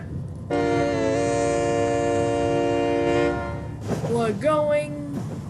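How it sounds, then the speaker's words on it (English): A runaway locomotive in the game Rails Unlimited sounds a long, loud horn blast, then rumbles on as someone speaks excitedly over the train noise. "Drive this unstoppable locomotive"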